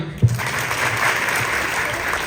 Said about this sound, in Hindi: बच्चे के लिए तालियां